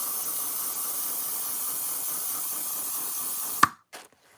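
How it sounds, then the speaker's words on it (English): A can of cheap hairspray sprays in a long continuous hiss for over three seconds, then stops with a sharp click, followed by a brief short puff and silence. "Hairspray or fixative,"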